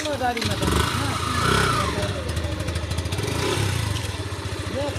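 A new motorcycle engine runs and revs nearby at night with a steady low rumble and rattling, while people talk over it.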